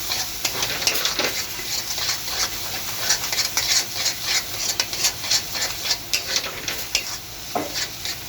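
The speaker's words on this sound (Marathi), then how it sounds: "आता हा थोडा हलवून घ्यायचा चांगला" Chicken coated in colour masala being stirred in a pan, a spatula scraping and clinking in an irregular rhythm over a steady, close sizzle.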